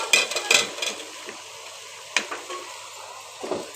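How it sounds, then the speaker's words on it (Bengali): Beans and potatoes go into a pan of frying chicken, bringing a few sharp clatters and a hissing sizzle, then quieter stirring scrapes and sporadic taps. "এখন আমি সিম আর আলুটাকে দিয়ে দিচ্ছি।"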